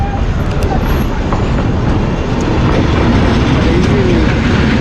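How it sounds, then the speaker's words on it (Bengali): A train arrives on a railway line, its loud, close rumble and rolling wheel clatter filling the whole stretch without a break. "ট্রেনও চলে আসছে"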